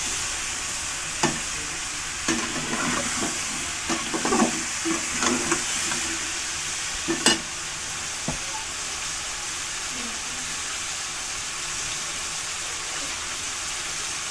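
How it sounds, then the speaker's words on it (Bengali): Chicken frying with lemon juice in a pan gives a steady sizzle, broken by scattered scraping and clinking knocks as the pieces are stirred, close and fairly quiet with no talk. "এখন নেড়ে চেড়ে নেব ভালো করে।"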